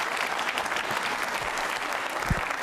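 A hall audience at a Jain Social Group regional quiz show claps loudly in a continuous, even burst, with a few low thumps near the end.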